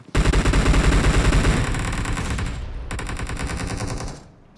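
Automatic weapon fire in the mobile shooter Battlegrounds Mobile India rattles in a loud, rapid burst, pauses briefly, then resumes before cutting off, heard alone without talk.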